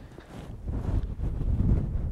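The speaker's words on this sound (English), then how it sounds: "The other problem I'm having is it's really windy. Not sure if you can hear that." Strong wind buffets an outdoor microphone on a Lake District fell, a continuous low roaring rumble that builds and gusts steadily through the whole stretch with no speech.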